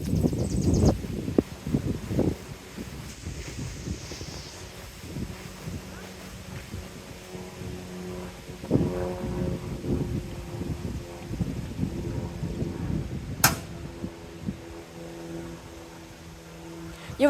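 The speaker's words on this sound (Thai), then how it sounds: "หน้าบ้านลมแรงมาก" Strong wind buffets the microphone in front of a house in a residential neighborhood, coming in uneven gusts and rumbles with a vehicle passing, while a voice speaks briefly under the noise.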